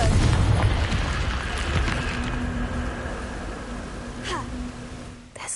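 Confringo fire spell in Hogwarts Legacy, a loud, close booming blast that rumbles and slowly fades over several seconds, with a few sharp higher swishes near the end.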